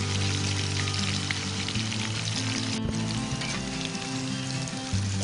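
Cassava pieces fry in hot oil for a crunchy snack, giving a dense, steady sizzle with fine crackling bubbles, close and continuous with no one talking.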